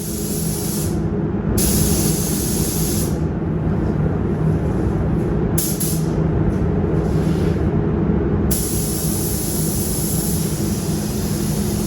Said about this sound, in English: I love the way this gun is spraying